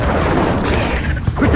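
Incendio fire spell cast in the Hogwarts Legacy video game, a dense, roaring burst of flame noise that stays loud and steady throughout, with a small thump near the end.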